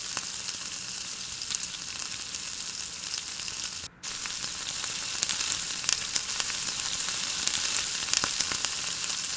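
Steady, close sizzle of something sautéing in a pan for besan chilla curry. The crackle holds even and continuous throughout, broken only by a split-second gap near the middle.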